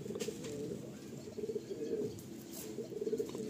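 Pigeons coo softly and repeatedly inside a loft in Baruipur, low rounded calls overlapping in a gentle steady rhythm, faint and close, with a few light rustles.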